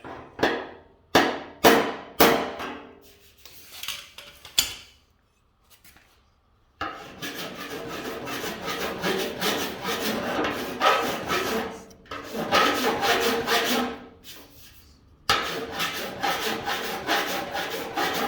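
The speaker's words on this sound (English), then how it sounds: "hammer it up, file it smooth, and carry on" Rough scraping strokes of a file rasping across lead filler on a classic car body, in quick bursts at first, then long steady stretches of continuous filing with brief pauses.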